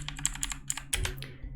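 Quick bursts of keystrokes on a computer keyboard while entering Python code, close and crisp, with uneven clusters of taps and short pauses between them.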